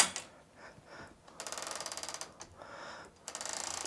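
A quilt is rolled on a quilting frame with repeated quick ratcheting clicks, in short bursts separated by pauses, close and fairly quiet.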